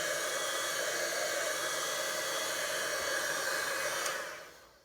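A heat tool warming embossed cardstock from the back, giving a steady loud hissing blow of hot air that runs continuously and then cuts off, fading out in the last second.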